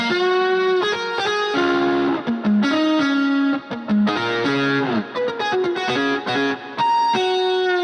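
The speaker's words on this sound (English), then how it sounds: "he has the lead guitar that's a great guitar sound." Distorted lead guitar, a couple of layered, comped guitars with effects processing, plays a sustained melodic line with bending held notes, loud and upfront with no voices.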